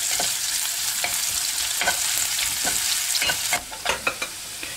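Food fries in a pan until browning, a steady bright sizzle running throughout with occasional stirring scrapes and clicks of utensil on pan near the end; no voices.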